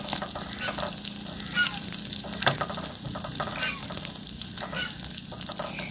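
Bánh tai yến pastry frying in hot oil, giving a steady, close, continuous sizzle and crackle that runs throughout with no one talking.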